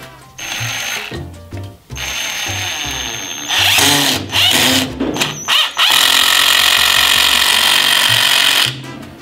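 A Triton 12V impact driver sinks 70 mm wood screws, giving loud bursts of rapid hammering impacts that start, stop and restart, with a long continuous run near the end.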